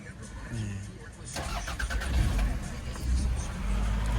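A 1996 Toyota RAV4 engine cranks and catches about a third of the way in, then settles into a steady, close rumbling run, with brief faint voices before the start.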